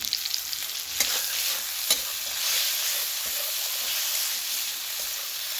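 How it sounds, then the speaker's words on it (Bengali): Ginger frying with cumin and turmeric in a hot pan, a bright continuous sizzle broken by a few sharp stirring scrapes, close and alone with no talk. "আদার সাথে একটু জিরে হলুদও কষিয়ে নেব। আর আদাটা একটু কষিয়ে নিই।"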